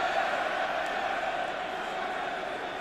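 A near-52,000 stadium crowd at a 1993 Five Nations rugby match between Wales and England in Cardiff keeps up a steady, dense roar of encouragement that hangs at an even level throughout, with no single voices standing out.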